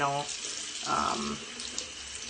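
Hot water running from a bathroom tap into a sink, a steady splashing rush with a brief voice at the start.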